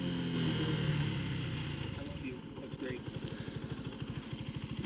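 A Janus Halcyon 250 motorcycle engine rumbles close by, its pulsing exhaust beat quickening as the bike rides along, with wind rushing past.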